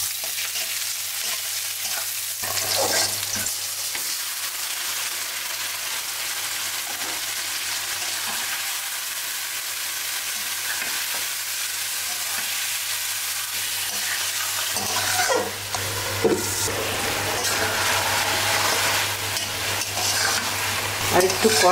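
Chicken sautéing in a pan with cinnamon, cloves, cardamom and bay leaf, a continuous close sizzle with repeated scraping stir strokes, growing louder and busier toward the end, with a steady low hum underneath.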